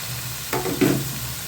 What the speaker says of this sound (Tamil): தேவையான தண்ணி நீங்கள் ஊற்றிக்கலாம் நானும் கொஞ்சம் ஊற்றுறேன்